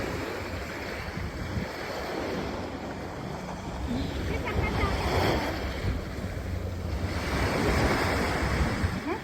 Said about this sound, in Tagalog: ang sarap pakinggan yung alon ano, parang nasa probinsya ka na gawa umahampas yung alon